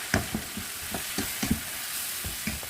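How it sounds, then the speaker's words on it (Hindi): Boneless chicken sizzles in a pan with yogurt stirred in, a soft steady fry broken by the rhythmic scrape and clack of a spoon against the pan, close and fairly quiet. "दो से 3 मिनट चिकन को फ्राई करने के बाद यहां पर हम 3 टेबलस्पून दही ऐड कर देंगे।"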